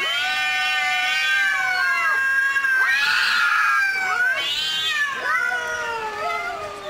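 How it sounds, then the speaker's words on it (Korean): A cat meowing repeatedly, several drawn-out, rising and falling cries close to the microphone, loud and plaintive with a caterwauling edge. "고양이 울음소리죠"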